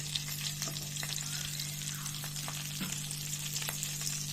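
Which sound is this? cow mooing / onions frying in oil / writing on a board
onions frying in oil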